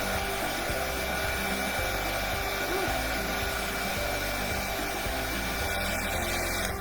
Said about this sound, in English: I don't know if blowing heat on the hot glue actually makes it cool, but probably not.